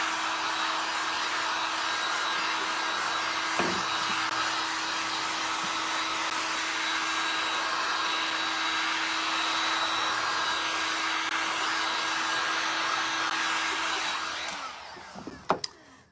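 Heat tool with a resin-work attachment drying stain on wood, blowing in a steady loud whir for about fourteen seconds before it winds down and a few handling clunks follow.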